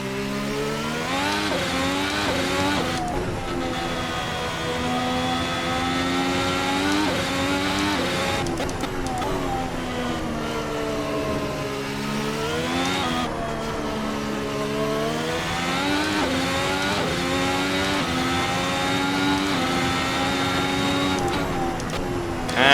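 Formula 1 race car engine in a racing video game, a high-pitched whine that climbs through the revs and dips at each gearshift, repeating in several sweeping runs with no talking.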